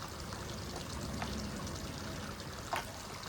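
Pond water sloshes and trickles through small test tubes during a koi pond water test, a steady close wet pouring with a couple of brief splashy peaks and no talking.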